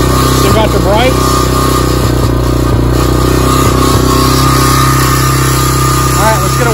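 A TBR7 250 pit bike engine runs nearby, loud and steady with a throaty idle, its tone swelling in several brief revs across the clip.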